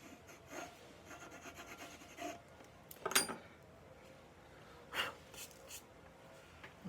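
The bottom of a trimmed clay pot is signed, giving soft scratchy rubbing strokes with a few louder scrapes, close and faint, with no talk.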